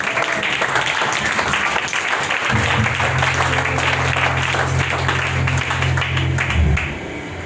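A church congregation applauds during a worship service, sustained clapping from many people that carries on for several seconds over a low steady hum before tapering off near the end.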